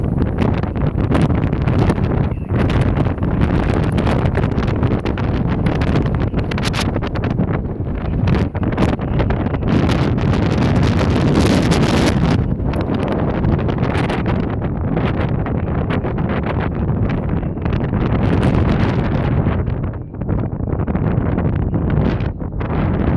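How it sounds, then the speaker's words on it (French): Strong gusty wind outdoors roars and buffets the microphone, a loud continuous rush that surges and eases in waves for the whole stretch. "vous allez voir un peu la force du vent."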